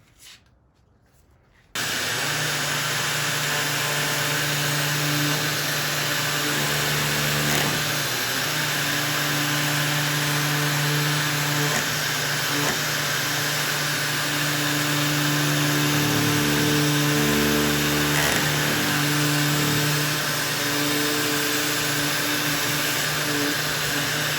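A power sander with a P150 sanding disc runs loud and steady after a brief quiet start, its motor whine holding constant with slight shifts as the disc presses against a wooden chest.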